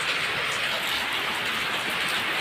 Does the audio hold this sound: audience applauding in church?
no